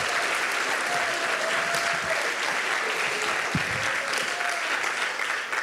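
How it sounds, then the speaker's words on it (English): Steady, sustained applause from a crowd at a poetry performance fills the whole stretch, dense and even, with no voices rising above it. "clap it up one more time for Justice, y'all."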